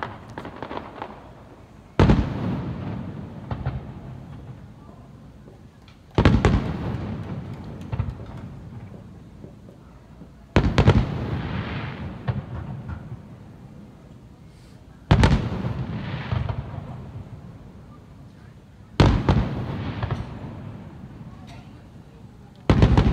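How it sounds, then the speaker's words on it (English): Fireworks at a Gulfport show on 5 July 2018 go off in five loud booming bursts spaced a few seconds apart, each followed by a long crackling decay, with people talking faintly between them. "Fireworks! Here we go."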